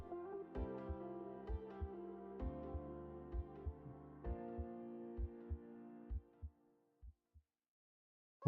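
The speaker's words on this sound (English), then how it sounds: "Why would that tune have a heartbeat in the background?" A heartbeat set in the background of a musical tune thumps in regular paired low beats beneath sustained synth chords, then carries on quietly for a few beats after the music cuts out.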